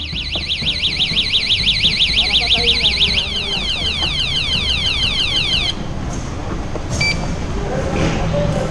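Alarm on an NWOW GB-2 e-bike sounding a loud, rapidly warbling electronic siren that sweeps up and down for several seconds before cutting off, followed by a couple of short beeps, with people talking nearby.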